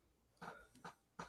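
One person coughs three times in quick succession, close and fairly sharp, against a quiet background.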